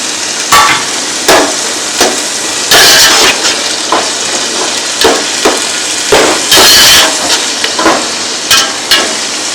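Chopped tomatoes drop into a pan of lightly fried ginger and garlic while cooking a chana achari biryani, giving loud, repeated bursts of sizzling and clattering stirring in irregular waves.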